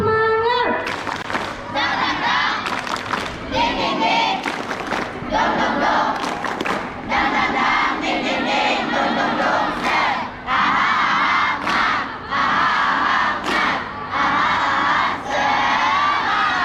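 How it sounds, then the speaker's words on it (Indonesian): A crowd of schoolchildren at a school assembly performs the tepuk semangat clapping cheer, loud rhythmic claps mixed with shouted chants and cheering voices throughout, close and energetic. "Coba kita ulang lagi tepuk semangatnya."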